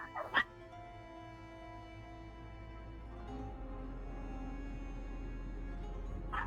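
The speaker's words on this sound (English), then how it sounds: "Dogs are losing their fucking minds out there." Dogs outside yip and whimper faintly in the distance, with one sharper burst near the start, over a steady low hum in a quiet room.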